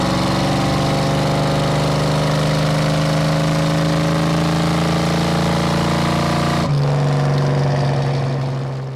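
A restored 1971 Dodge Dart's 340 V8 runs steadily and loud up close with a deep, even rumble that climbs slightly in pitch, then the tone drops and settles near the end.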